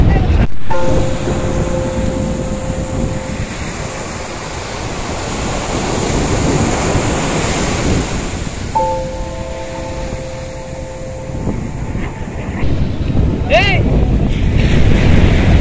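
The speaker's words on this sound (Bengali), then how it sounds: "কি ঢেউ রে অনেক, হাওয়া প্রচন্ড।" Strong surf and gusty wind at Baina Beach in South Goa, with waves crashing steadily and wind buffeting the microphone loudly up close; a few brief tonal beeps and some faint voices appear in the background.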